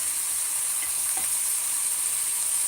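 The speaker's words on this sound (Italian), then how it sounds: "E lo facciamo fare un po' così ragazzi, bello friggere per bene, senza coperchio, senza nulla." Meat frying uncovered in a pan for a Southern Italian Sunday ragù: a steady, close, hissing sizzle filling the clip without pause, no voices.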